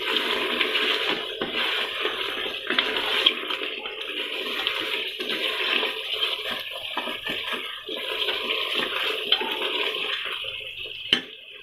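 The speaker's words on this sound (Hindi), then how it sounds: "ये 1 गिलास पानी हमने इसमें ऐड कर दिया" Water is poured from a glass into a mutton Shinwari karahi with its gravy and green chillies, a steady wet splashing and hiss that runs unbroken for several seconds, close and fairly loud, with no talk over it.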